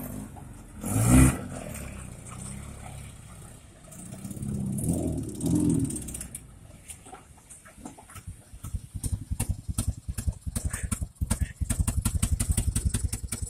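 An Oka VAZ-1111 car with clutch trouble starts moving off in first gear, its small engine puttering in a rapid, uneven pulse that grows louder in the second half, after earlier bursts of voices and handling noise nearby.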